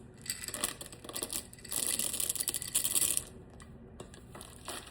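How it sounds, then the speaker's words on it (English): Walnuts and chocolate chips tumble into banana bread batter in a bowl, a close run of light rattling, crinkling pours and patters, busiest in the middle stretch before tapering off. "Now we're going to add our walnuts and our chocolate chips."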